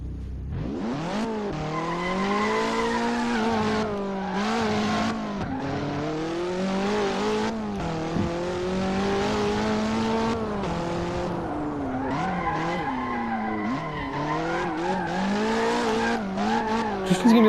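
A car drifting in the Hot Wheels: Universe Zero racing game, its engine whining and shifting in pitch over a long stretch while tires squeal, loud and continuous.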